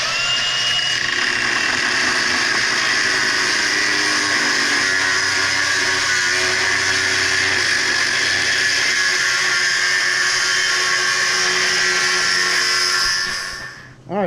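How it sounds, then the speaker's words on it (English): Plasma cutter slicing metal on a race truck build, a loud, steady hiss with a high whine running continuously for about fourteen seconds before cutting off abruptly. "he's fixing to fire up the plasma cutter"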